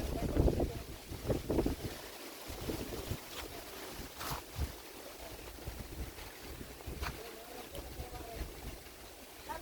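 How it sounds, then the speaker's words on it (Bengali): Gusts of strong wind before rain buffet the microphone in heavy rumbling bursts, with a faint voice and outdoor background underneath. "প্রচুর বাতাস, প্রচুর বাতাস"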